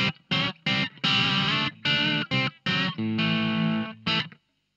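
Electric guitar through an amp channel mode set to slightly less than maximum high-gain distortion, played in loud, sustained chords and bursts with short gaps, ringing out at the end before cutting to silence.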